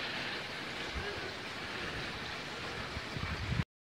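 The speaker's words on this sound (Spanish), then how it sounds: "Por supuesto, acá está el río." River water rushing at a riverside thermal hot springs complex, a steady broadband wash of flowing water with some wind buffeting, sustained and fairly close throughout.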